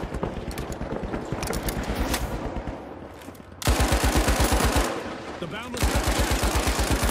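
Rapid automatic gunfire from the game The Finals crackles in dense, rhythmic bursts, cutting out briefly and resuming loud and close, with players talking over the shooting.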